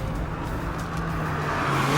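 A 2017 Mazda MX-5 Miata Club with manual gearbox drops a gear with a heel-toe blip, its engine note swelling steadily from inside the cabin over two seconds.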